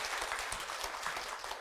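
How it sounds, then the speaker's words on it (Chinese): Continuous audience applause, many hands clapping together, fairly soft and distant, steady throughout. "让我们再用热烈的掌声"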